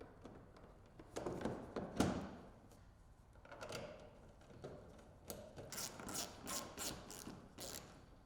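Hand ratchet tightening the hood panel fasteners on a Polaris RZR Pro XP, giving faint clicking pawl bursts and a few light knocks up close, ending in a quick run of sharp clicks, with no speech.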